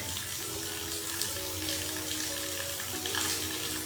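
Pepper, fennel and mustard seeds dry roasting in a pan give a steady, close sizzling and faint crackle that runs evenly throughout, with a soft, hissy texture and no talking.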